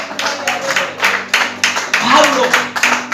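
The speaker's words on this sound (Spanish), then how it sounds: "Mira, dale un aplauso." A church congregation claps in a loose, uneven rhythm during a sermon, moderately loud and close, with a voice speaking over the clapping throughout.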